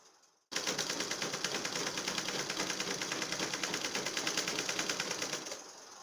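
A sewing machine stitches a pencil skirt in one continuous fast run, its rapid even needle clatter starting abruptly and holding steady and close for about five seconds before easing off, with no talking.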